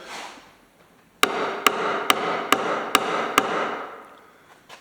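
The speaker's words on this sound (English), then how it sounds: "it's a simple matter to just tap it down with a hammer" A hammer taps a helix riser down into place, six sharp, evenly spaced strikes about half a second apart, close and fairly loud over a low background hum.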